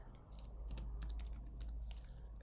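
Soft, rapid keystrokes on a computer keyboard patter in an irregular run over a low steady hum, close and fairly quiet with no talking.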